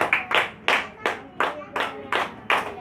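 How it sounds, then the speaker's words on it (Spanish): A church congregation claps together in a steady, even rhythm, about three claps a second, loud and close, keeping time. "Dale palmas a Cristo."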